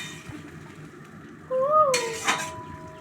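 A metal lid clanks onto a pot of Bengali fish curry with potatoes in a home kitchen, one sharp clatter followed by a ringing tone, with a cat-like squeak just before.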